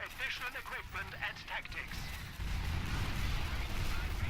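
Machine-gun bursts and mortar blasts in a WWII battle game set around Bretteville during the fight for Caen, with a voice talking over the first half before dense, loud, continuous gunfire and explosions take over.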